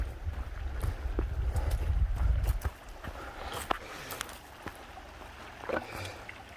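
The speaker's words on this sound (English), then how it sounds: "sounds like there's a waterfall down here." A stream flows near a hammock campsite, a rushing wash of water that is louder in the first few seconds, then settles into a softer, steady trickle with a few light knocks.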